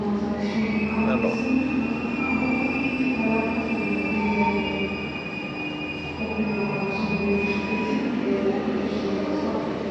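A crowded special train stands at a station platform, its steady rumble overlaid by long, high metallic wheel squeals that rise and fade, with no break in the noise throughout.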